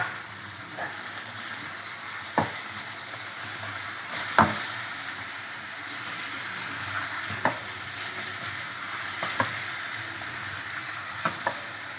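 Fried chicken and softened tomatoes sizzle in a karahi for a chicken karahi, with a steady, moderate frying hiss broken by occasional sharp scrapes and clacks of stirring.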